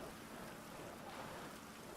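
A steady, even hiss of rainfall in a storm in the video game GTA 5, soft and unbroken throughout, with no voices.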